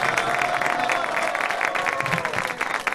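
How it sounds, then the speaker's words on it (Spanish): An audience applauds at a live unplugged concert, with dense, steady clapping from a crowd filling the whole stretch, while a host's voice speaks over it. "Grande el aplauso para ellos."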